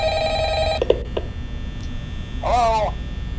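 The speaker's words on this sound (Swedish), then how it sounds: "Försöker någon att ringa mig eller?" A phone rings in the night-shift office of the video game Five Nights at Freddy's, a single electronic ring burst with a steady hum beneath, heard alone without talk.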